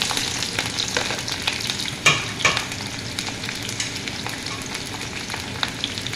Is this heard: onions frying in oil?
yes